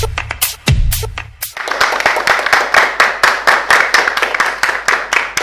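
A studio audience at a French talk show applauds: a short burst of claps, then from about a second and a half in, steady rhythmic clapping in unison, loud and close, with no speech over it.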